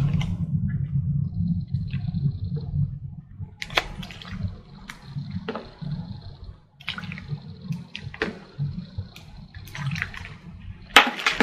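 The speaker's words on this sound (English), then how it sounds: "Now we're going to add 4 tablespoons of water." Four tablespoons of water go into a bag of homemade putty mixture, splashing and trickling in a few bursts, with small rustles and taps of the bag between pours in a quiet room.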